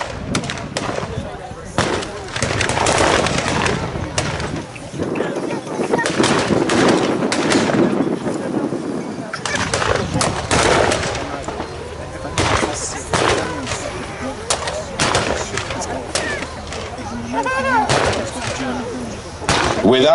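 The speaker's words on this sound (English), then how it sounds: "the German defenders' heavy machine guns, mortars, small arms subject the Americans to sustained fire" Machine-gun and small-arms fire at a Normandy Omaha Beach battle re-enactment during Tankfest 2017, loud rapid bursts and cracking shots outdoors, running continuously under a commentator's voice.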